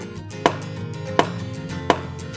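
Knife and cleaver strikes while carving a beef tenderloin butt roast out of a hind quarter at a meat shop: three sharp, evenly spaced chops about three quarters of a second apart, close and distinct over a low room hum.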